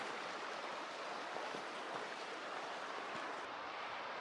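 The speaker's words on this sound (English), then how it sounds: "Little streams and stuff up here." A small mountain stream flows along the Continental Divide Trail near a campground, a faint steady wash of water with soft wind-like noise and no voices.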